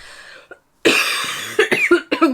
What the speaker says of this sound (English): coughing and out of breath.